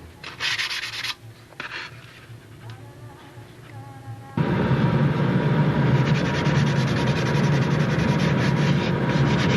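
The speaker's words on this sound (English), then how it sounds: "I just want to get a little more sanding on it." Sandpaper rubs steadily against a thin balsa model airplane wing being fitted to the fuselage of a Brodak Cardinal, with scattered light scraping at first, then a loud, continuous close-up abrasive rasp from mid-clip onward.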